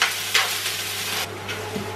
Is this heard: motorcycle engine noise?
no